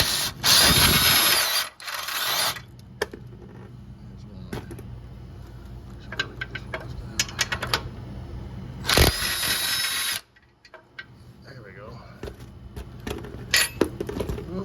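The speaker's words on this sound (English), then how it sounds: "And take the 4 nuts off the bracket, the bolts for the bracket." Ratchet wrench loosening the nuts on a Triumph motorcycle rack mount bracket: loud, close bursts of rapid ratcheting clicks, with quieter metallic clicks and handling noises between them and no talking.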